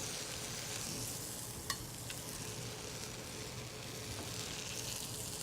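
Teriyaki-marinated bone-in chicken pieces frying on a grill, giving a steady, close hiss of sizzling with a few faint pops and ticks, with no one talking.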